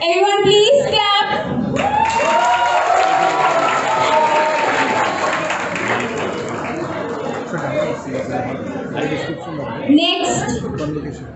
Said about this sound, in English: Everyone, please clap.